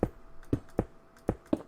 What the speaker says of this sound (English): that is a lot of clicking I hear